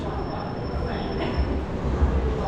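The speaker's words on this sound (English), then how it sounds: "It's a metro, boy." A metro train rolls past nearby in Hamilton, New Zealand, a steady broadband rumble with low thuds near the end and a thin high whine running throughout, with no talk over it.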